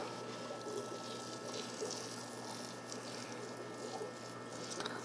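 A steady stream of water pours onto vermiculite to soak it for rooting tree cuttings, a continuous moderate splashing rush with a faint hum beneath, no voices.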